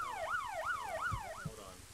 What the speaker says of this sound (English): Oh yeah, there's that siren.